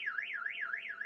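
A Vauxhall Combo van's alarm security system sounds an incoming call as a continuous warbling siren tone. The pitch sweeps up and down about three to four times a second, clear and steady, with no voices.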